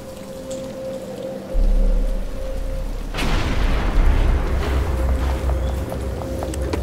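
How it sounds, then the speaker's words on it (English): Rain starts falling and builds into a steady patter, joined by a low rumble, with a constant hum underneath, in the video game Batman: Arkham Asylum. "But it's starting to rain."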